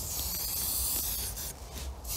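Aerosol plastic cleaner sprayed lightly onto a caravan window, a steady close hiss of spray that dips briefly toward the end.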